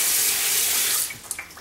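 Tap water running steadily into a sink while a salt print is washed, a close, bright splashing stream that cuts off near the end, leaving a few drips and knocks.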